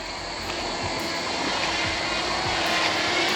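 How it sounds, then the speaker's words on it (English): A drone flies over a rail trail in Indiana County, Pennsylvania, giving off a steady whirring buzz that holds at a constant moderate level throughout, with no talk. "going out into the field here with a drone"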